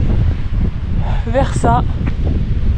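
Strong wind buffets the microphone high on the Col de la Seigne mountain pass in freezing cold, a steady roar lasting the whole clip, with a person speaking briefly over it.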